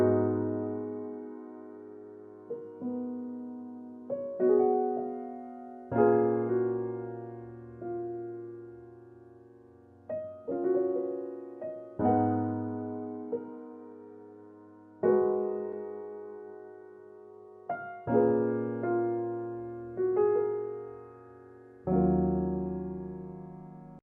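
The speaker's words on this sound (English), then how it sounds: "I added some embellishments to make this progression sound like this." Dreamy R&B keys loop built on three chords with added embellishments, played on a vintage keys sound. Sustained chords strike about every two seconds and ring out, with a deep bass note under each change, with no voices.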